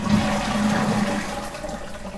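Geberit toilet flush valve releasing water from the tank into the bowl, a close, loud rushing gush that swirls and gradually tapers off as the flush drains, with no talking over it.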